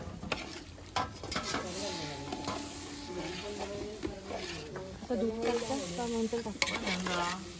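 Shira, a semolina sweet, is stirred in a cooking pot, giving a soft scraping and sizzling under steady talk from several people nearby.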